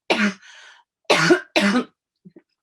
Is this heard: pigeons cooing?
no